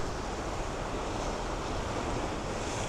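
Water and waves wash against a rocky shore near Pusan in Korea, a steady, full broadband rush of surf with some wind noise and no voices.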